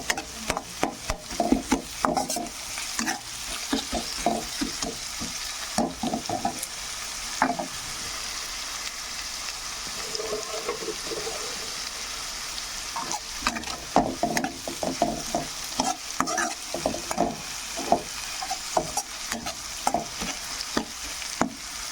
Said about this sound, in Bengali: এই কাঁচা লঙ্কাটা ভাজা হবে তো, এটা ভাজা হলে এই ভাজার ফ্লেভারটা খুব সুন্দর আসবে